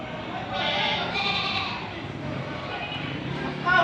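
Goats bleat at a livestock market, several wavering cries overlapping at moderate distance, with a voice talking through the background and a brief louder burst near the end.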